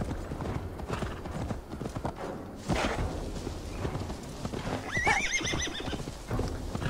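A horse ridden in the Viking-era game Assassin's Creed Valhalla gallops with a steady clip-clop of hooves, close and continuous, broken by a high whinny near the end.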